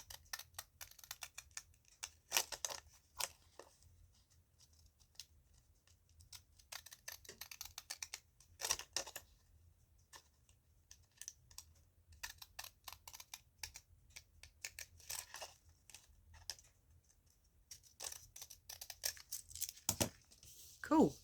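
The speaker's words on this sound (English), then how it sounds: "Trying to line up the pattern of the scissors as much as I can." Scissors snip through teabag box dividers in a run of short, crisp cuts with brief pauses, fairly close and moderately loud, with one sharper clack near the end.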